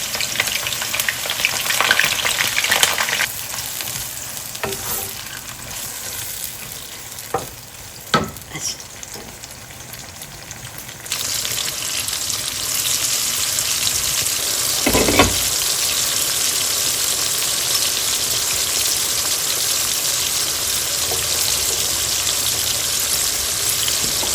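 Garlic cloves frying in a pan: a moderate hiss with a few knocks and clatters, then a sudden surge into loud, steady, crackling sizzling that carries on unbroken for the rest of the stretch.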